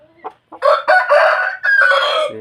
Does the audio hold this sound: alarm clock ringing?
no